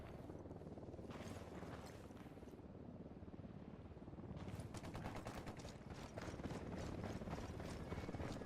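Gunfire in the tactical shooter Ghost Recon Wildlands, rapid cracking bursts that grow denser and louder as a firefight builds, over a steady rumble of background noise.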